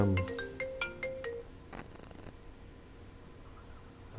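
A mobile phone ringtone chimes on a television news set, a rapid series of bright repeating electronic tones for about a second and a half, then cut off, leaving quiet room tone.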